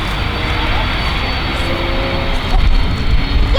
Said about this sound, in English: Yellow airplane!